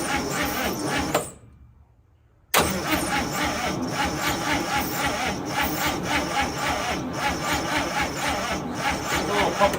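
A 1955 Chevy engine, parked for 40 years, cranks with a rapid rhythmic churning that cuts off briefly, then resumes as a long, steady, loud grinding crank without catching.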